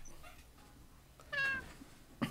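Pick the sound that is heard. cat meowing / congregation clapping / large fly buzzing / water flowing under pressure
cat meowing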